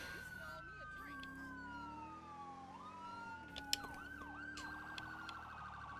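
Police sirens in a roleplay video game wail and yelp continuously, with several overlapping tones sweeping up and down, loud and steady throughout.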